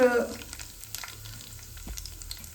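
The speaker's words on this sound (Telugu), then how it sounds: "ఇప్పుడు మనం నూనె కాగిన తర్వాత తాలింపు గింజలు అయితే వేసేసుకుందాము" Seasoning seeds sizzle and crackle steadily in hot oil, a quiet, continuous frying hiss with small pops.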